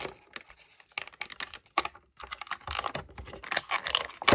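Someone opens the cardboard packaging of a new sloth toy box. Close, rapid clicks, scratches and tearing rustles come in irregular bursts, with short pauses between them.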